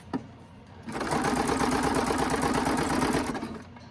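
A sewing machine runs steadily for a few seconds while stitching a self-binding XL potholder, a close, even, rapid mechanical whir that starts after a brief click and winds down at the end.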